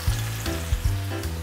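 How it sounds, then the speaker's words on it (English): Hen of the wood mushrooms frying in an oiled pot over medium heat, a steady close sizzle with a few soft bumps and stirring knocks, no voices. "We're gonna leave these on medium heat and let them fry for just a few minutes."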